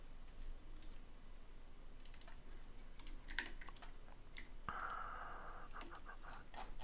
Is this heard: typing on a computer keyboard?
yes